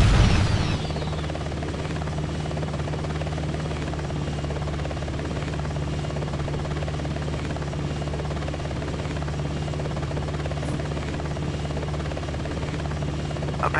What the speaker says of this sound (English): I've got an Apache on radar